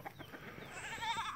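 Goats on a farm, a brief bleat rising over faint background noise and soft rustling, fairly close, with no talk.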